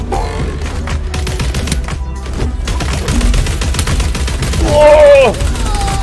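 Rapid bursts of gunfire and bomb blasts in the Blankos Block Party video game, loud dense volleys with a swelling explosion, and a player's voice talking over the action.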